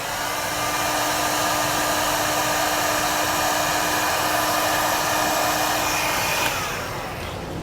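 A handheld heat gun sealing heat shrink butt connectors on trailer light wiring gives a steady, loud, close blowing whir that holds constant for several seconds, then eases off slightly at the end.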